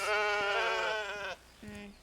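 A bighorn sheep bleats in the national park simulator game Ranger's Path, one long wavering, nasal call lasting over a second, close and clear, followed by a shorter, lower bleat.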